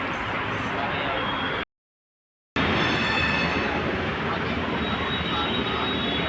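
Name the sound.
Delhi metro train arriving at station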